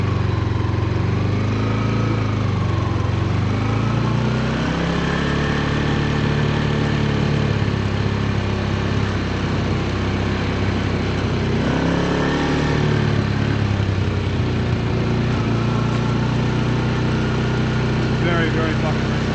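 A motorbike engine runs steadily while riding across a beach in Indonesia, a continuous mid-pitched drone with rising and falling revs, carrying on beneath someone talking throughout.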